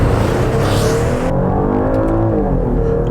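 A 2017 Buick LaCrosse accelerates hard past redline under paddle shifting, its engine roaring loud and close with rising pitch, a shift, then climbing again.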